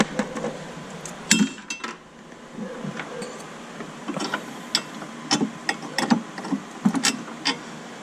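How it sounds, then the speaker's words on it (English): Metal bolts from a Volvo XC70 (2002 and up) radiator fan shroud replacement are dropped into a parts tray, giving several sharp, separate clinks and rattles at close range in a quiet garage, with no talking. "And put the bolts in their tray."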